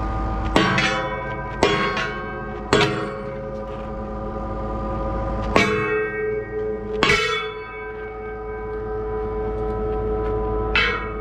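Gang wrench striking the metal of a big CAT-powered White 4-225 tractor, ringing bell-like clangs hit about six times at uneven intervals, each loud, close and left to resonate and decay.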